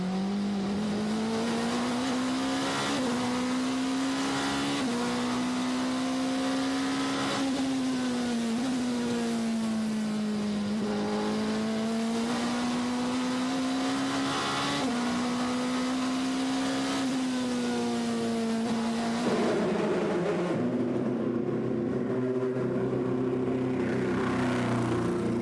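Ferrari race cars at the 2020 24 Hours of Le Mans, sustained engine drone with repeated upshifts and pitch sweeps, loud and continuous, ending in a lower, rougher tone.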